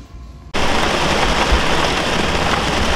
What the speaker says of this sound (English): Oh my god, it's raining again.